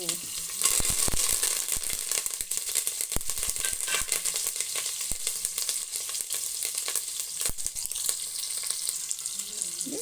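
Onion and curry leaves frying in a pan, a steady sizzle with scattered clinks and stirring scrapes throughout.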